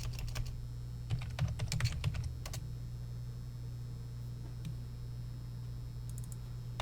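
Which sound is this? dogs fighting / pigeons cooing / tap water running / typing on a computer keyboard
typing on a computer keyboard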